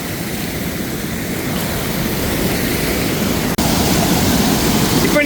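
Water pours down the concrete steps of the Chithirai Chavadi dam near Coimbatore, a loud, steady, close rushing roar that continues unbroken apart from one brief click.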